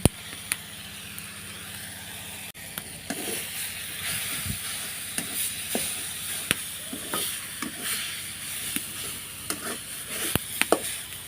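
Fried onion and chilli being mixed into a mashed taro leaf bhorta in a village kitchen, with scattered clicks and scrapes of stirring and a faint sizzle over a low steady background hiss.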